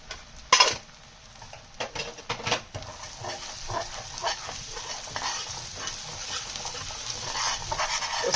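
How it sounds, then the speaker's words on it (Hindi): A spoon stirs gram flour (besan) as it roasts in a pan over a low flame, giving soft continuous scraping with a few sharper knocks near the start, close and alone without talk. "स्लोली हम इसको इस तरीके से चम्मच घुमाते रहेंगे।"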